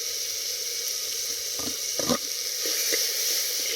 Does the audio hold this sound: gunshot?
no